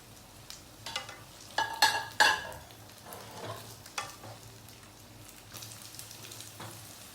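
Parboiled potatoes frying in hot oil for a Spanish omelette, a soft continuous sizzle broken by several sharp scraping and stirring knocks, close and moderately quiet, no talking.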